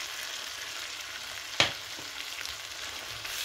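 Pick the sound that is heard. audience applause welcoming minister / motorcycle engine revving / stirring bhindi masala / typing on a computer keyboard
stirring bhindi masala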